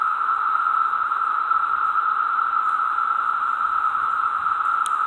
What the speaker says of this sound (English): Hear the cicadas in the background, 17 year.